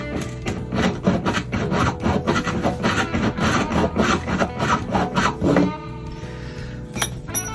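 A hand reamer works a wooden bridge pin hole on a 1965 Gibson J-50 acoustic guitar, making close, rhythmic rasping strokes. The strokes stop near six seconds, and a couple of light clicks follow.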